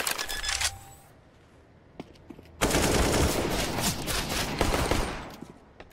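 Bursts of rapid video-game gunfire, a short volley first, then a loud sustained stretch of shots after a brief lull.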